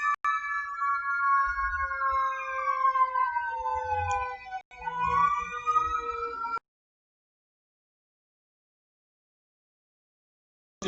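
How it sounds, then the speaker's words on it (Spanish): Passing ambulance siren with sweeping, wailing tones that rise and fall over several seconds at moderate loudness, accompanied by low rumbles, then stopping abruptly into silence. "Perdónenme por la ambulancia, no estoy en el hospital."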